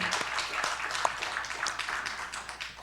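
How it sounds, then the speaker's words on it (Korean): A church congregation claps in worship, giving glory after a prayer, a moderate, somewhat sparse applause with distinct individual claps standing out, heard fairly close. "우리 하나님께 영광의 박수를 크게 돌립니다"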